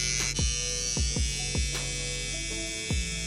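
Electric hair trimmer buzzing steadily close by while cutting a taper fade, with repeated short dips and clicks as the blades pass through hair.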